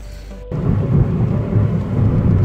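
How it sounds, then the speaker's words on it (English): A quiet room opens abruptly into loud, steady rain, a dense rushing downpour that continues without letup, during a camping trip. "It'd be wet, it's raining, it's miserable."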